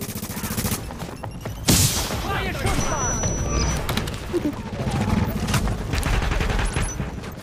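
Gunfire rattles in the video game The Division, with bursts of automatic shots, a sharp blast and crashing impacts, loud and close, while people talk over the action.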